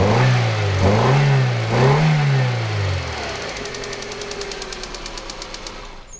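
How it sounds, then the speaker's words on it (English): A car engine is revved hard as the throttle is snapped, two sharp rising surges close together before settling back to a rough idle, loud and close with no talking. "We'll snap the throttle."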